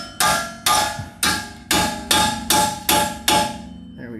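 Seven sharp metallic hammer blows strike at a steady, even rhythm, each one loud and ringing briefly, as the rear wheel bearing hub is knocked out of a 2003–2008 Toyota Corolla Type-S.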